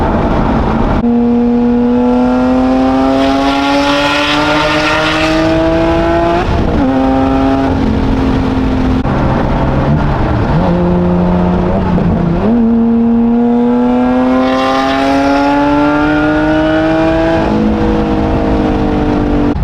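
Lotus Evora 400 engine while driving, heard from inside as a loud, steady drone that climbs in pitch through long accelerations, drops at gear changes and climbs again, with no talking.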